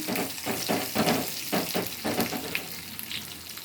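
Steady hot-oil sizzling of a tempering with asafoetida crackling in a pan, close and fairly loud, with a few bursts of stronger spitting and no talking.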